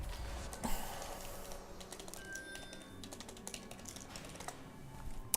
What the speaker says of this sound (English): As you can see by my typing